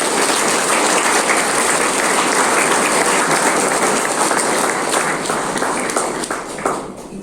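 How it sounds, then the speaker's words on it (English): An audience claps together in sustained, dense applause for a training institute at a Don Bosco expo and sale, steady and loud for several seconds before tapering slightly at the end. "Let us clap for your institute and for yourself."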